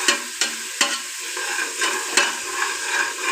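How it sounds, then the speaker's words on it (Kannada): Coconut ghee rice frying and being stirred in a pan of oil, a steady sizzle punctuated by several sharp scraping stirs at regular intervals, close and moderately loud with no talking. "ಕೆಂಪಗಾಗೋವರೆಗೂ ನಾವು ಚೆನ್ನಾಗಿ ಬಾಡಿಸ್ಕೊತಾ ಇದ್ದೀವಿ"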